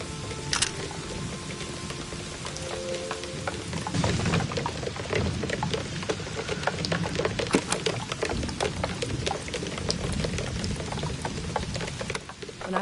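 Steady rain patters and splashes on surfaces throughout in the video game Season: A Letter to the Future, with dense drips and crackles and no clear thunder.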